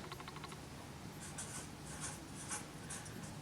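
A pencil writes a word by hand on paper, making faint, close scratching strokes in short bursts against a quiet background.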